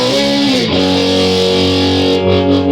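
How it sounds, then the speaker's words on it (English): A 1972 Orange AR120 valve guitar amplifier is played loud and heavily distorted, with one thick sustained chord that shifts once and rings on, buzzing and compressed, alone with no talk. "you can hear all that crazy cathodic compression and distortion happening in this circuit"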